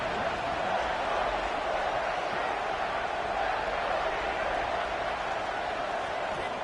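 A large stadium crowd roars steadily in College Football 26 during a big third-down play in a Penn State versus Texas Tech game, a dense unbroken wash of cheering that holds loud throughout.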